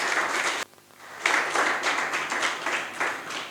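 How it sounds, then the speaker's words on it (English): Applause from an event audience at a juice-industry wellness gathering, a steady dense wash of many hands clapping, briefly dipping near the start before resuming loudly and continuing throughout. "I think we all deserve a round of applause at this point"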